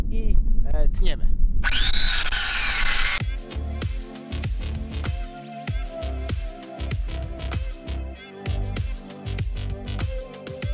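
A power saw cuts through untreated, natural pine pallet wood, starting with a loud continuous whine, then a run of sharp repeated rasping strokes at a steady rhythm, close by.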